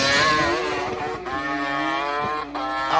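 A Kawasaki H2 750 two-stroke motorcycle on a drag strip screams through a race run, loud, high-pitched and rising as it shifts through the gears, close by, with no voices.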